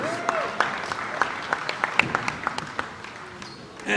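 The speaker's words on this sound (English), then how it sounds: "Give a round of applause for the Raiders." Scattered applause in a high school gym for the Raiders boys basketball team during lineup introductions, with sharp separate claps over crowd murmur and occasional squeaks, thinning out toward the end.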